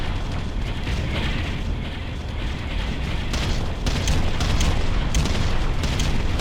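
Ground Control real-time strategy game, with an area bombardment sounding as a dense, continuous rumble of deep booming explosions. Sharper bursts pile up in the second half, loud and unbroken.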